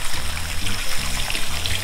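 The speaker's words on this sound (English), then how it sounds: "I'm gonna add in some water" Water is poured into a pot of seafood gumbo with bell pepper, a short close trickling splash lasting under two seconds, with no talk.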